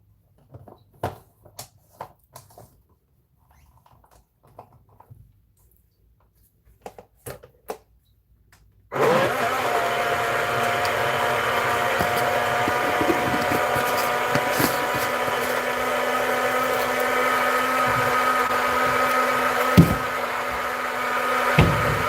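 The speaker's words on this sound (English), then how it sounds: "the blender will actually mash the food." A blender runs continuously after a few seconds of quiet clattering and handling, a steady loud whir mixing a smoothie with occasional knocks on top.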